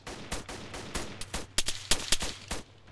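Gunfire in the Arma 3 video game from a Humvee at a roadblock, a rapid string of sharp loud shots in uneven bursts, sounding close, with no talk.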